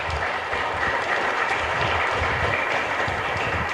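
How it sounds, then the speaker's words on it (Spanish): A church congregation at Mass in the Santa Librada chapel in Ñemby claps steadily together, a dense sustained applause filling the room with no voices over it. "Y un fuerte aplauso para todos ustedes."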